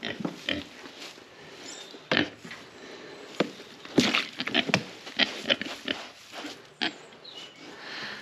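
Pigs grunting and snuffling on a small farm, a run of short, close grunts and oinks at irregular intervals, some sharper and louder than others, over a low background with no talk.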